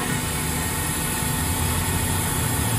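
The spindle of a 2006 Mazak Nexus 510C 50 machining center runs near 2,000 RPM, giving a steady, dense mechanical whine and hum with a few high tones, holding constant and alone throughout.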